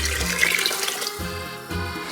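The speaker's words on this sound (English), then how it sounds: "And then we're gonna also add 3 cups of hot water." Three cups of hot water pour into a pot of minestrone soup, a bright splashing rush that shifts tone twice as the stream is interrupted and resumes, heard alone and fairly close.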